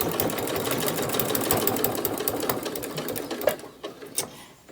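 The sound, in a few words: sewing machine stitching fabric keychain strap with back stitch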